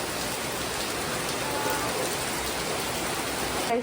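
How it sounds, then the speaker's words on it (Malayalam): Heavy rain pours down steadily, a dense, constant hiss with no pauses and no voices. "അങ്ങനെ നല്ല മഴയാണ് ഗൈസ്."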